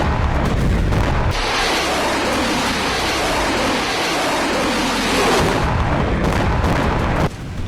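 Russian army shelling in the Ukraine war, heard as loud, continuous rumbling booms of artillery fire that sustain heavily through the whole stretch, with no talk.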